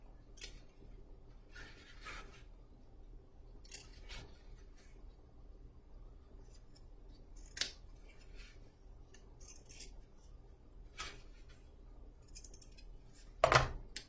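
Scissors snip in a few scattered, brief cuts, trimming back material on a Mr. Bones skeleton figure, with one sharper, louder snip near the end against a quiet background.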